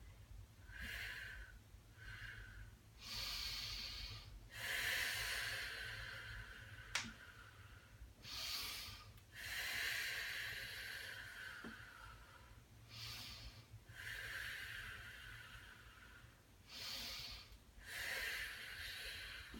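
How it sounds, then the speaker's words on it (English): Repeated loud, breathy exhalations come in bursts every second or two, close to the microphone, with a couple of sharp clicks between them and no talking. "I'm breathing really loud. I hope you can hear me to hear that I'm exhaling"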